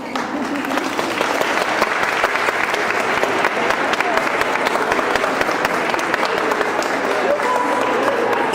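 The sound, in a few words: audience clapping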